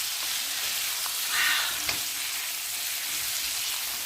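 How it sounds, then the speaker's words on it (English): Prawn linguine sauce with lime bubbling in a frying pan, a steady close hiss of sizzling with one brief scrape of a utensil stirring through it, no voices. "Give that another stir."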